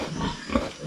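A pig in a farm pen gives a short low grunt over a rough, noisy background, brief and close.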